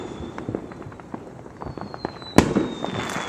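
Independence Day fireworks bursting above the trees at night, scattered small pops and crackles at a distance, then a sharper louder bang followed by fizzing crackle, with a faint whistle running through.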